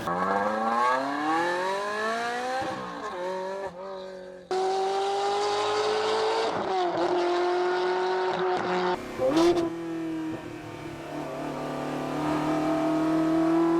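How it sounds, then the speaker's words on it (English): A high-revving Ferrari 360 Modena engine climbs through the gears of its manual transmission, its tone rising and briefly dropping between shifts, loud and close throughout. "We're talking about the Ferrari 360 Modena."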